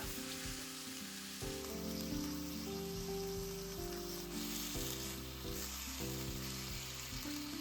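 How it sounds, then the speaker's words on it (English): Pork fries in a pan over high heat for ginger pork, a steady, fairly faint hiss and sizzle like light rain, with a tonal hum underneath and no talk. "Okay, the heat is high. I don't move the pork to brown the surface."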